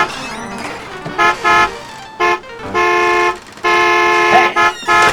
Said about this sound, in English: Turn that stupid car alarm off.